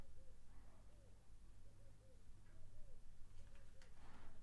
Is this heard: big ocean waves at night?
no